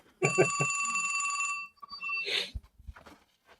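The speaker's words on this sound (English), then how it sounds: "I can like tell when the phone's gonna ring." A telephone rings loud and close, a continuous bright electronic trill lasting over a second, then stops with a rustle and clunk as the handset is picked up.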